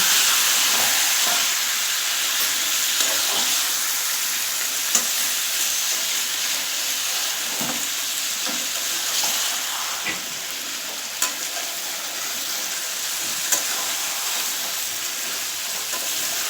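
Duck being sautéed with ground spice paste and a splash of water, a steady close sizzle and hiss with occasional spoon scrapes and clinks against the pan, no voices.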